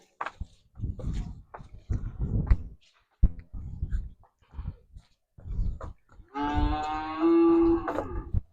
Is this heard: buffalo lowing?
yes